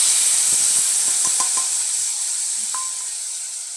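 Chili, ginger, garlic and mustard paste hits a hot pan with a loud, steady hiss and sizzle, a few faint clinks of stirring early on, easing slightly as the wet paste cooks down.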